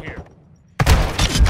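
Loud burst of gunfire from a shooter video game, a dense crackling volley that erupts abruptly after a quiet stretch and keeps going, with some voice underneath.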